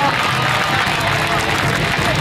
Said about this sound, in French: Il est applaudi, il est ovationné.